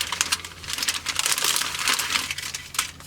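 A plastic bag holding the sprues of an ICM 1/72 scale MiG-29 model kit is handled, giving close crinkly rustles and crackles in irregular bursts, with no voice.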